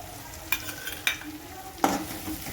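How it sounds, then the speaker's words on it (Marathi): Biryani masala being stirred into a cooked tomato base for chicken biryani, a soft sizzle under a few distinct scrapes of a spoon against the pan at irregular intervals. "मिक्स करून घेते मी मसाला"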